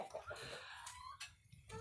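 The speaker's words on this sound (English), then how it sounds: "So these are the chickens." Chickens clucking in their coop, a faint, busy scatter of short calls with no clear rhythm and a soft background murmur.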